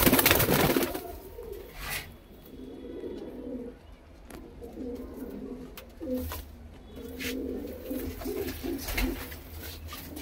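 Female pigeons coo in low, repeated bursts throughout, with a loud flutter or rustle at the start and cooing recurring in soft rhythmic phrases.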